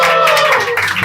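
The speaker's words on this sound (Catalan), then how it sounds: "Un aplaudiment per la Melòmana que no anirà a Eurovisió." Applause from a studio audience on a Catalan comedy talk show, a dense patter of clapping hands filling the whole second, loud and close, with voices mixed in.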